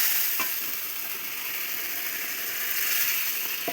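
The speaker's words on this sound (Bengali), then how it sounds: "ভালো করে নেড়ে চেড়ে নেব।" Catla fish curry with brinjal fries in a pan while being stirred, giving a steady close sizzling hiss with a couple of faint utensil knocks.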